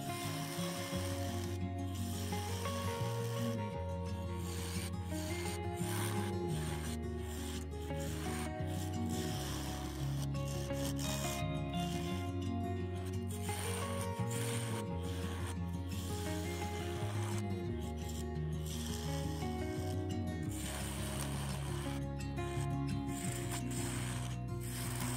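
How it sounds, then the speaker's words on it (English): A wooden Easter egg spins on a lathe while a detail gouge shapes it, producing continuous scraping and rubbing over a steady droning tonal backdrop for the whole stretch. "now we're going to take on this end, and we're going to cut us some, start shaping our egg"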